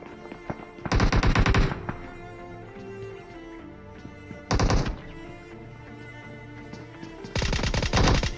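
Automatic gun bursts in a battle royale video game, three loud rapid-fire volleys separated by quieter game ambience.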